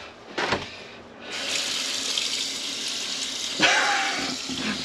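Hot water gushes steadily from a campervan tap into a sink, a loud, close rush with a couple of sharper splashes as the flow starts and shifts.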